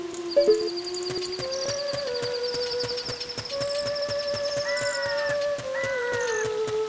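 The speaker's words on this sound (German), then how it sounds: "Oh Gott, dieses Katzengejaule." Sustained, wavering cat wails from the Zelda: Ocarina of Time video game rise and fall in long, pitched, siren-like tones over a steady ticking game backdrop, loud and continuous with no talking.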